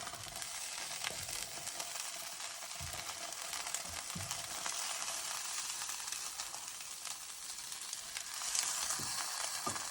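A birria brisket taco fries in a pan in a Ninja Foodi Possible Cooker Pro, giving a steady, close, bright sizzle with occasional soft pops and a brief louder burst near the end.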